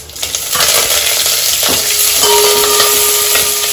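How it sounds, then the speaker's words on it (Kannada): Mustard seeds, cumin, curry leaves, garlic and dried chillies spluttering in hot oil for a tempering, a loud close hiss with crackling pops and the scrape of stirring in the pan. "ಸಾಸಿವೆ ಸಿಡಿತಾದೆ, ಇವಾಗ ಸ್ವಲ್ಪ ಜೀರಿಗೆ ಹಾಕ್ತಾ ಇದ್ದೀನಿ"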